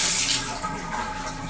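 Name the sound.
water running from a Moen shower valve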